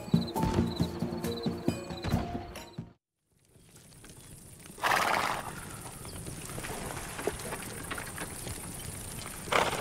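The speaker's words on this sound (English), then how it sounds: "And Queen's not the youngest horse in the shed." A horse whinnies over steady clip-clopping hooves in the video game Desperados 3, then a brief break before a rush of noise and more scattered movement sounds.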